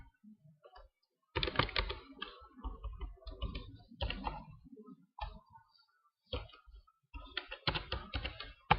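Someone types HTML code on a computer keyboard, with bursts of quick close key clicks broken by short pauses, fairly quiet and with no talking.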